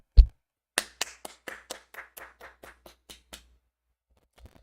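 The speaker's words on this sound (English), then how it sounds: "I'm gonna give him a round of applause for that." A single person claps alone, about a dozen sharp hand claps in an even, slightly slowing rhythm, close and clear in an otherwise quiet room, with a lone tap before and after.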